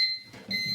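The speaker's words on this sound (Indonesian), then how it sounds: "tetap menyala alarm buzzer dikarenakan untuk indikasi ketika arus overcurrent" An overcurrent alarm buzzer on a campus power meter data acquisition system sounds as a high, steady electronic tone that cuts out briefly and then resumes, fairly faint.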